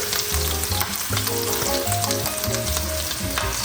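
Mushrooms frying in hot butter for a smoked picanha beef Wellington give off a loud, steady crackling sizzle that runs unbroken throughout, with no talking.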